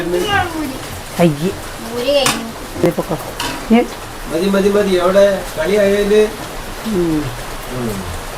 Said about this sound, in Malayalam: മഴ കനക്കുകയാണ് ചെയ്യുന്നത്